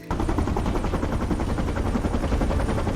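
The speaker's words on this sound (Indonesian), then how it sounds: "Lalu Hood mengambil senjata di mobil untuk menumbangkan helikopter si bos." Rapid automatic gunfire in an action film, shots fired at a boss's helicopter, loud continuous bursts filling the whole stretch with no talk.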